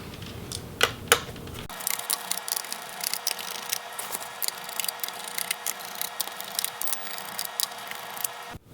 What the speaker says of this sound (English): we're going to go along the bottom here and remove all of the small Phillips screws